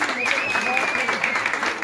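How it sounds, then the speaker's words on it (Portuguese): An audience applauds a clown performer at a community event, a steady wash of clapping with a whistle on top, while a voice talks over it. "Palmas para a Manuelita."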